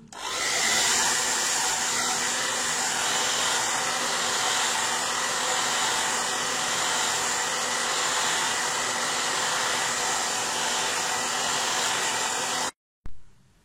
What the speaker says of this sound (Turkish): Şöyle saç kurutma makinesiyle.